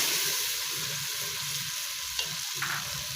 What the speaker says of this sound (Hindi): ये लहसुन अदरक का पेस्ट भी हमारा अच्छे से भून चुका है